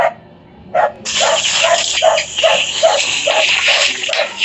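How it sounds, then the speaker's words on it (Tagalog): A dog barks repeatedly in a steady rhythm, about ten barks, under a loud continuous rushing noise like running water. "Ang ingay ng aso."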